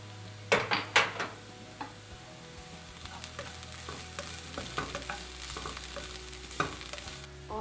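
Cumin and onions frying in a pan are stirred with a spoon, giving close metallic scrapes and clinks over a continuous soft sizzle, with a few sharper knocks near the start.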